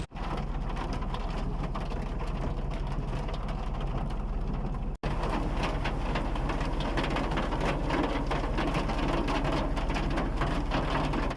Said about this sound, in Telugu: ఈ విధంగా కువైట్లోని చాలా ప్రాంతాల్లో భారీ వర్షం అయితే కురిసింది